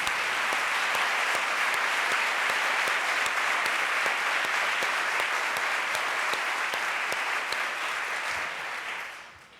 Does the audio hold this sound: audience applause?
yes